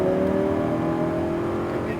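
Lamborghini Huracan on a race track gives a steady, close engine drone held on throttle over a crest and downhill, with a voice talking over it.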